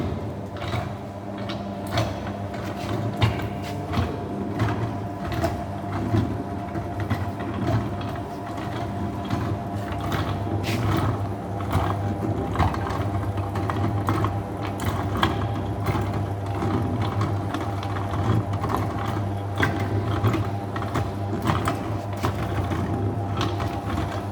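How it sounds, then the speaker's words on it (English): A slake durability drum turns a rock sample at 20 RPM, giving a continuous mechanical rumble with steady low hum, repeated rattling clicks and scraping as the pieces tumble, close and unbroken throughout. "Now we will rotate the sample with 20 RPM for 10 minutes."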